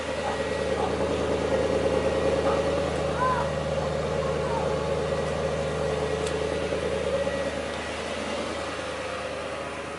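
A Porsche Cayenne GTS 4.8 V8 idles, heard close at the exhaust, a deep, steady low even burble holding constant throughout with a faint hiss on top.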